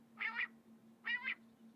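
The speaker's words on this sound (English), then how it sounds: "That sounds like a cat." Two short, nasal meow-like cries, evenly spaced about a second apart, over a faint steady low hum.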